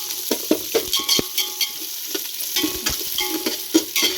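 Onions being sautéed in a pan for bhai veetu kuska biryani, a soft sizzle broken by repeated scrapes and clinks of a spoon stirring against the metal, close up with no talking.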